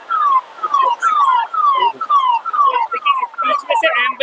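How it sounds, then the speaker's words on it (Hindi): An ambulance siren wails in repeated falling tones, loud and close, as the vehicle pushes through a crowd at a protest sit-in, with voices in the background. "बीच में से एम्बुलेंस निकल रही है इसलिए साइड दिया जा रहा है"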